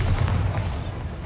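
A Bombarda spell explosion in Hogwarts Legacy hits with a short, heavy low-end boom that stays loud and thudding throughout the brief moment.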